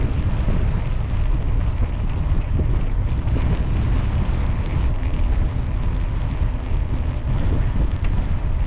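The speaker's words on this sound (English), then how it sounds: "That's powerful wind. It's a side wind now," A strong side wind while cycling through Bavarian countryside around Schaftlach roars across the microphone in a continuous loud buffeting rush, with no talking.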